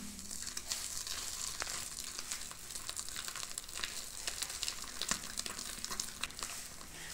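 Soaked urad dal ground into a paste and beaten by hand for dahi vada: a soft, steady wet churning and slapping, fairly faint and close, with no talk.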